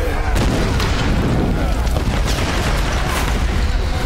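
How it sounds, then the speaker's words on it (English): Heavy gunfire and booming blasts from a Tomb Raider: Definitive Edition firefight, a dense, continuous barrage of shots and explosions at close range with a voice talking over it. "Why are y'all shooting at me?"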